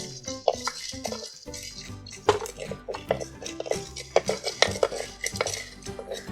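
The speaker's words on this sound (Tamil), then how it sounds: "அரைக்க வேண்டிய மசாலாவை நம்ம இப்போ வறுத்துக்கலாம்." Fenugreek and pepper are dry-roasted in a pan for kara kuzhambu masala. A metal spoon scrapes and clinks against the pan in an irregular stirring rhythm, up close, with a faint rustle of spices and no talking.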